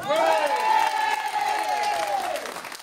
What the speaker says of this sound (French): qui mérite de vos applaudissements